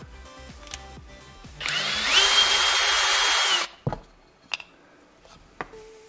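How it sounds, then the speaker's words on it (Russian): A power screwdriver drives a screw into a wooden board, whining loudly for about two seconds and then stopping, followed by a few sharp knocks and taps from the wood and tool. "Вкручиваем сначала без турборезьбы."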